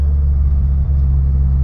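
A Subaru STI with a 2.5 turbocharged engine rumbles with a loud, steady low drone close to the microphone, holding an even tone without distinct revs.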